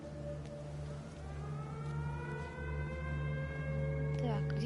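A wailing siren sounds in a video game, its rising and falling tones steady over a constant low electronic hum. It plays alone with no talk.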